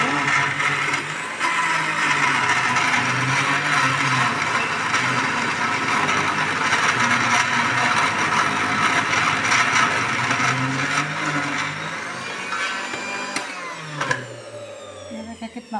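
Meat being minced into keema inside a blender jug, a loud continuous whirring motor drone that runs for many seconds, then stops, followed by a few clattering knocks.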